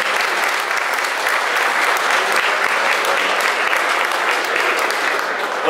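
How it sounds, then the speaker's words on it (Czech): Audience applause at a wine tasting event in Moravské Budějovice, a loud, dense and sustained wash of many people clapping at once, continuing evenly throughout. "Tak já bych poprosil o potlesk, protože to si určitě zaslouží."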